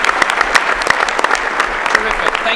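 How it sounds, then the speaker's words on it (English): Audience applause for the winners on stage at a startup elevator pitch competition, a dense steady patter of many hands filling the room, with a voice speaking over it. "Take a bow, guys, and give them a round of applause."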